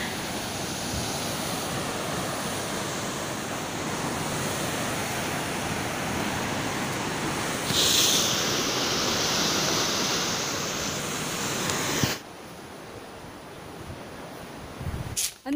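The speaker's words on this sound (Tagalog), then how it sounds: "Sobrang lakas ng alon." Strong, heavy ocean surf at Tali Beach roars in a continuous broadband wash, with a brief louder surge partway through before the sound drops sharply as the recording nears its end.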